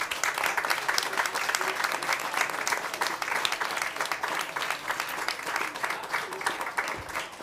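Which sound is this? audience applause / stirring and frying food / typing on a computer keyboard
audience applause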